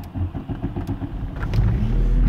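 A Volkswagen Passat pulls away, its engine rumbling low and close and swelling louder toward the end as the car drives off.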